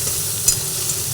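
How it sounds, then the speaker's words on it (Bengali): Cauliflower with turmeric and salt stirred as it fries in a pan, a steady close sizzle with a couple of brief scraping stir sounds. "এরপরে আবার ভালোভাবে নাড়াচাড়া করে নিচ্ছি"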